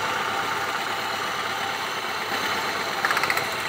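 A Hyundai Atos engine idles during a misfire diagnosis with a steady, even drone and faint vibration, up close with no talking.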